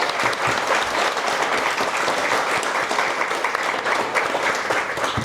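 Sustained audience applause at a political study circle gathering in Mexico City, dense steady clapping throughout with no break or talk over it.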